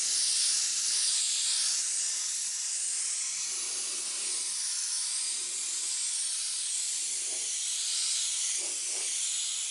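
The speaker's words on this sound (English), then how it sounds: "Now we're just going to take a purple candy and spray over everything." An airbrush sprays purple candy paint over a stencilled design, giving a continuous close, airy hiss that holds steady for the whole stretch with no talk.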